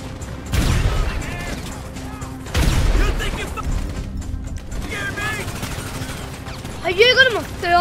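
Gunfire during a heist in GTA V: two heavy gunshot bursts with mechanical clanks and rattles, followed by quieter shots and clicks, while someone talks over the action.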